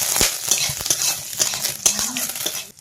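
Mustard seeds and dried red chillies temper in hot oil in a kadai, a close crackling sizzle with scraping stirs and spoon clinks against the pan, fairly loud and steady with no talk.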